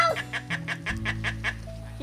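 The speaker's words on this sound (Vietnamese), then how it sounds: "Con chim cười á." A bird gives a rapid series of about eight chuckling, laugh-like calls in steady rhythm, fairly close, over a low hum of background noise outdoors.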